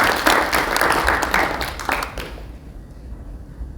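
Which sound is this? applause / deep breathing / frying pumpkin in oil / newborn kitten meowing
applause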